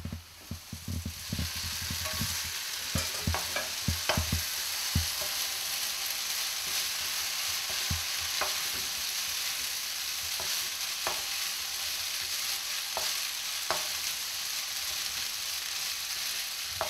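Pasta stir-fries in a wok with a loud, continuous sizzle, punctuated by scattered clacks and scrapes of tossing and stirring, close up and without talk.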